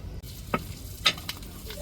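Needle squid fries in hot oil in a home kitchen, giving a steady soft sizzle broken by a few brief stirring scrapes and pops, heard close and fairly quiet without voices.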